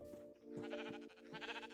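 Sheep bleat in a Minecraft modded world, a few wavering cries close together, fairly faint and alone without talk.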